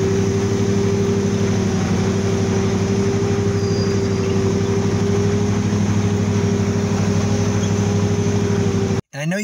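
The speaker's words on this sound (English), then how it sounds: "Today, I'm driving a Zamboni." Steady, loud drone of a Zamboni ice resurfacer being driven, a constant low engine hum with tonal whine, close and unbroken, cutting out abruptly near the end.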